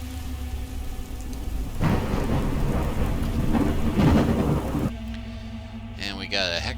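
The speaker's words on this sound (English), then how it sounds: "And we got a heck of a thunderstorm brewing." Heavy rain pours steadily through a thunderstorm in the video game Fallout: London, with thunder rolling loudly through the middle and a brief quieter stretch before the downpour swells again near the end.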